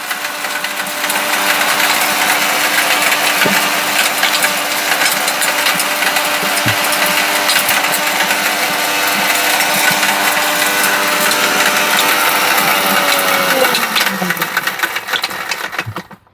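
An electric blender grinds spices into powder with a loud, steady high-pitched whir that runs continuously before winding down near the end.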